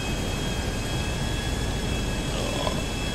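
An airplane in the video game GTA V Online drones with a steady, loud jet-engine roar that holds constant throughout, with no voices over it.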